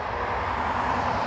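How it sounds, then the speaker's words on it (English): Continuous road traffic noise near Dublin Airport, a steady broadband rumble and hiss of passing vehicles with no talking. "I am aware the road noise here does torment people."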